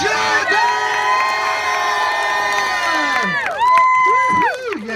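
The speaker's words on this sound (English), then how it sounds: "Give a big round of applause for Jordan!" Spectators at a chilli eating contest during a chilli festival cheer loudly for the winner, with high shouts, whoops and sustained cheering voices.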